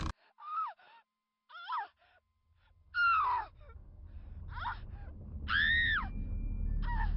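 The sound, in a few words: woman screaming in a horror story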